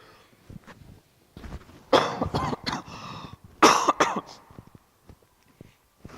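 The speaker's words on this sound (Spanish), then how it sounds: "Ay, qué complicado toser con esto." Several harsh coughs in short bursts, close to the mic, with quiet pauses and a little rustling between them.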